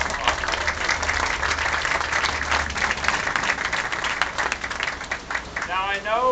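A crowd at a courthouse event gives a sustained round of applause, dense and steady with scattered sharper claps. A voice begins speaking as it dies away at the end.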